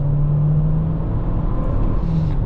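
A 2024 Toyota Corolla Cross hybrid accelerates hard, giving a steady, loud engine drone and whir with a low rumble that holds without letup, recorded from inside the car with no talk.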